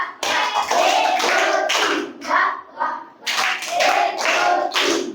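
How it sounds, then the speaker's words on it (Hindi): A group of children and adults in a classroom claps hands together in welcome, several loud bursts of clapping separated by short pauses, close and lively. "सभी लोग हाथ ऊपर कर लें और वाह वाह ताली बजाते हुए स्वागत करेंगे"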